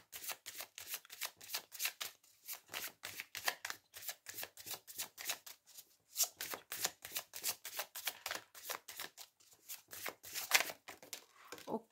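Rider-Waite tarot cards are handled and shuffled close by, giving a long run of rapid, crisp riffling flutters in repeated bursts with brief pauses between them, and no speech.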